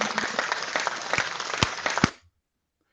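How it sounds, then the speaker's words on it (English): Clapping sound effect played into a Twitter Space, a dense burst of hand claps lasting about two seconds that cuts off abruptly into silence. "I would do a clapping sound effects."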